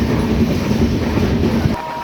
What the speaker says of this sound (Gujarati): આપણી ટ્રેન બોટાદમાં એન્ટર થઈ ગઈ છે